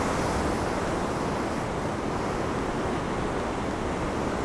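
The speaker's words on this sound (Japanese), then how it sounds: "かなり波上がってきてますね。" Ocean surf on a rough Hokkaido shoreline near Shizunai, a continuous loud wash of breaking waves with wind noise, no voices.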